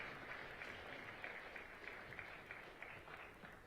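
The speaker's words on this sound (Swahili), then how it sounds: "Piga makofi tafadhali." An audience applauds at a Merck Foundation conference in Tanzania, a dense, steady patter of many hands clapping together, heard faint and distant throughout.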